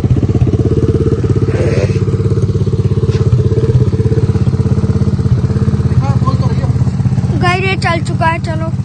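A motorcycle engine idles steadily and loudly close by with an even, pulsing beat, while someone talks over it toward the end.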